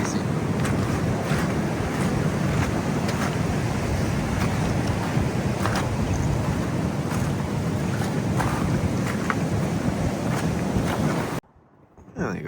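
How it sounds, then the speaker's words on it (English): Huge ocean waves crash and roar continuously on a windy, cold coastline during a hike, loud broadband surf with wind buffeting the microphone, then the sound cuts off abruptly near the end. "These waves, crazy."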